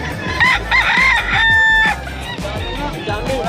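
Roosters crow loudly at a pet market selling Sweater, Kelso and Hatch gamefowl lines, with several overlapping cock-a-doodle-doos and clucking chickens close by among steady market bustle.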